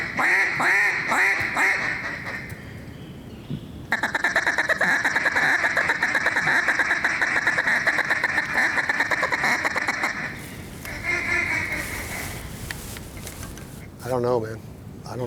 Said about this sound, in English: Here comes a good bunch of ducks right here.